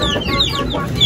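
An Aseel hen clucks close by in short repeated calls, loud and alone.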